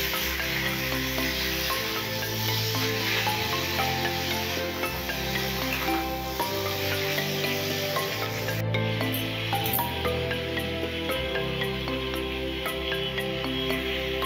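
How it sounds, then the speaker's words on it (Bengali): Mushrooms frying in a pan with onion and green chili, stirred with a spatula, giving a steady sizzle with repeated rhythmic scraping strokes, close and continuous. "পেঁয়াজ লঙ্কা কিছুটা ভাজার পর মাশরুমটা দিয়ে দিলাম ভাজার জন্য। একটু ভালো করে নেড়ে নেবেন মাশরুমটা।"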